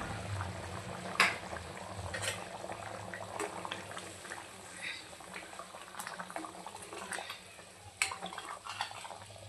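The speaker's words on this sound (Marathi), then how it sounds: "भाजीला छान उकळी आलेली आहे." Mutton curry, a rustic gavran rassa, bubbles in a pot at a soft, steady boil, with quiet popping and a few sharper clinks standing out over the low simmer.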